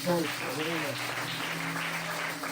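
A church congregation claps and cheers during a sermon, a steady wash of applause mixed with raised voices throughout.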